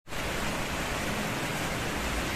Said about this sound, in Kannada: ಮಳೆ ಬರ್ತಾ ಇದೆ ಸಣ್ಣದಾಗಿ